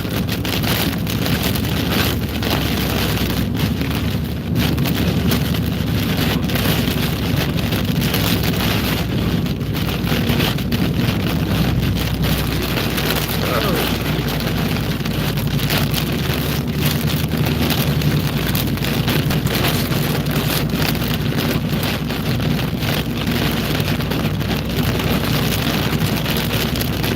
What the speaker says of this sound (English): that wind is really blowing out there